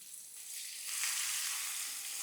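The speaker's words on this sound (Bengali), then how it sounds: "পেঁয়াজটা ভালো করে ভেজে নিতে হবে" Chopped onions fry in a hot pan, giving a dense, steady sizzle that swells slightly after the first second and holds close and loud, with no voices.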